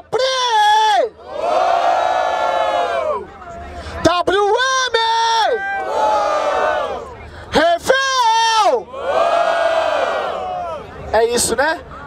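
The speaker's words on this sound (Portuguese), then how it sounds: "barulho para as rimas do Dopré!" Large crowd at a Brazilian street rap battle in Barueri roars and cheers loudly in repeated swelling waves, with shouts and whoops breaking through between the bursts of noise.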